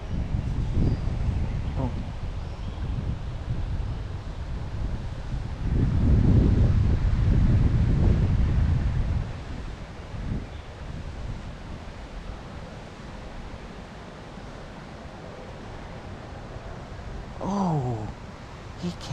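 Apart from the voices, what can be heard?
wind blowing by a cold tailwater river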